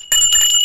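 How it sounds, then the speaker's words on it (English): Bright tinkly bells ring out in a short, loud burst with a sustained shimmering tone, heard alone. "Tinkly bells, Paul."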